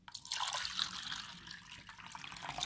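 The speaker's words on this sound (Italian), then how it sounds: "e andiamo a mettere l'acqua adesso faccio un disastro" Water poured into a Glimmies toy aquarium, a steady splashing pour with dripping and trickling, close and moderately loud, with no talk.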